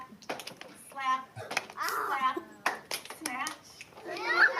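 Children play a hand game, trading quick rhythmic claps, snaps and slaps in short bursts while a voice chants along.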